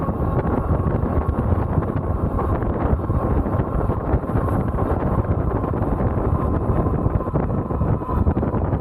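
Steady, loud headwind roars across the microphone for the whole stretch while riding an Ariel Rider Kepler V2 e-bike at about 30 mph, a dense continuous buffeting with no talk over it.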